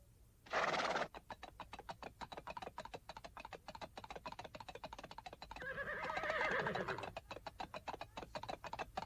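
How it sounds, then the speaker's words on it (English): A horse whinnies sharply near the start, then a second, longer neigh follows, amid a steady run of rapid clicking taps. "Un caballo. A horse."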